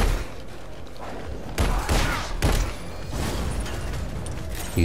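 Shotgun blasts ring out in the twin-stick shooter Alienation on PS4, several heavy booming shots breaking through a dense, continuous din of in-game combat noise.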